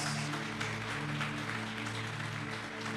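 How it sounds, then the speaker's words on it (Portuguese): A church congregation applauds, a dense, even wash of clapping that holds steady throughout, moderately faint and heard without talk. "Você pode dar uma forte salva de palmas a Jesus nessa noite?"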